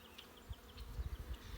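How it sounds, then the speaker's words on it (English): Honey bees hum in a low, steady drone around an open hive, close but faint, with soft knocks from hive boxes being handled. "You see all the bees."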